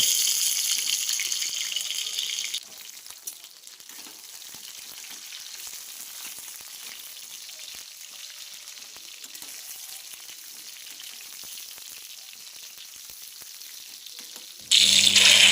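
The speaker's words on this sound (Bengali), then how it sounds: "পটলগুলো দিয়ে দিলাম পটলগুলো ভেজে নেব" Pieces of pointed gourd (potol) fry in hot oil in a pan, giving a soft, steady sizzle that runs quietly throughout, with louder hissing bursts at the very start and end.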